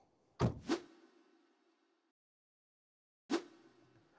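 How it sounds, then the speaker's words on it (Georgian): Zeekr 009 car doors opening automatically, two close mechanical clunks with a short whirring tail, a silent gap, then a third clunk with a brief hum, close by with no talk. "რომ კარები თვითონ გაიღებოდა"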